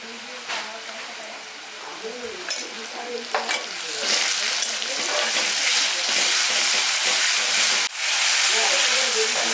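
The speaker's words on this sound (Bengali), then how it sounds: "পেঁয়াজটা আমার হালকা বাদামে ভাজা হয়ে গেছে দিয়ে দেবো রসুন বাটা" Browned onions frying with garlic paste in a pan, close and loud, with a rising hiss and sizzle that swells into a dense steady crackle after the paste goes in, punctuated by scraping stirs.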